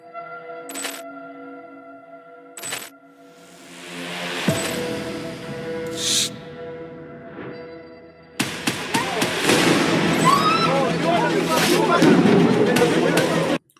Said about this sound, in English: This is firework, okay? They are firework, and we play them in the Eid.